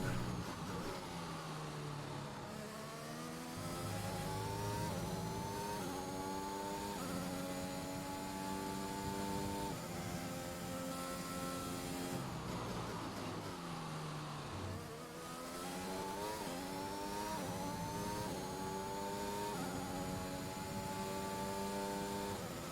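Formula 1 race car engine in the F1 2021 video game: a loud, continuous high-pitched whine climbing through repeated upshifts, dipping twice as if braking, then revving up again, with no talk over it.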